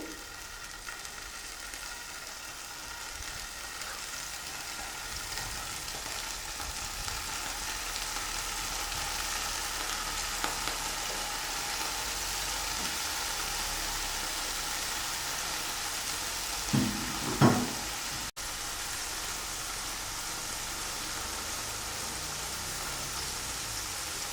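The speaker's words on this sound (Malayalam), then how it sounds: "ഓയിൽ ചൂടായിട്ടുണ്ട് പനീർ ഇതിലേക്ക് ഇട്ട് കൊടുക്കാം" Paneer sizzles in hot oil in a pan, a steady soft crackling hiss throughout, with a couple of brief clinks of utensils partway through and no talk.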